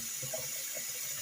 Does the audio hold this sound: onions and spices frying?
no